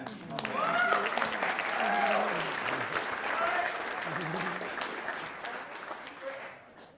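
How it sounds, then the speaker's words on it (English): Applause from an evening audience welcomes a paramedic speaker at a talk, sustained clapping with voices and whoops mixed in before it tapers off toward the end. "let's give a nice big round of applause for Matthew"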